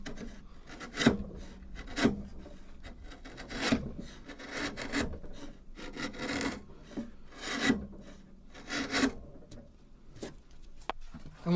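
A close, rasping scrape of a chisel taking light shavings from wood, repeated in uneven strokes with soft rubbing between them.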